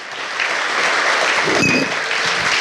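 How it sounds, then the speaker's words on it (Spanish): An audience at a live economics forum applauds a guest speaker after an onstage conversation, producing dense, even clapping that swells and holds at moderate loudness for a few seconds. "así que un aplauso para Andrés Velasco"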